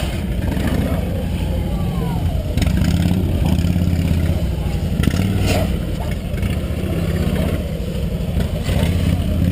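Police motorcycle idling and creeping at low speed through a slow-speed demonstration course at a safety day, a steady mid-range engine rumble with small throttle blips, continuous and fairly close, over faint crowd and background noise.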